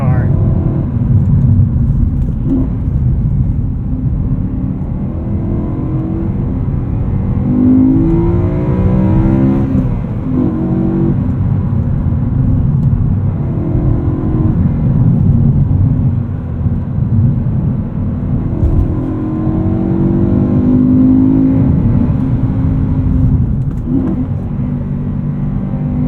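An E92 BMW M3 Lime Rock Edition with a 6-speed manual revs and roars continuously while driving, with pitch rising and falling through gear changes, loud and close throughout.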